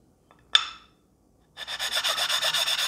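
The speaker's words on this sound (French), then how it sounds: "Ce que j'aime bien faire aussi avec mes pierres, c'est de casser les angles." The edges of a sharpening stone are chamfered, starting with a single sharp scrape. After a pause comes a fast run of rhythmic rasping strokes, close and fairly loud, with no talking.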